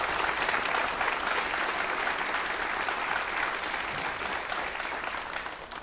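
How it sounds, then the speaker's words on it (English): Crowd applause for Hopkins American Legion and VFW members at a Memorial Day ceremony, many hands clapping close and loud in a continuous wash that tapers slightly toward the end. "A round of applause for our members of the Hopkins"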